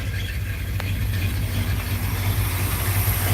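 A 1970 Dodge D100 pickup truck's engine idles through an X-pipe exhaust, giving a steady, loud, low rumble recorded up close with no talking.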